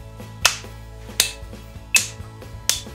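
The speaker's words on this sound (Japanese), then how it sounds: "これに合わせて手拍子してくれと言われたらどこになりますか？" Sharp hand claps struck roughly in time with a metronome at tempo 80 during a guitar rhythm lesson, four crisp evenly spaced claps standing out clearly over a quiet background with faint ticking.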